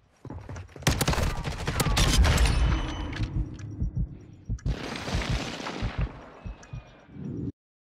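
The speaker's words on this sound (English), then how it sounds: "Hostile airstrike incoming." A hostile airstrike in Call of Duty hits with a dense burst of loud, booming explosions and rapid blasts, fades, then returns as a second rumbling wave of impacts before cutting off abruptly.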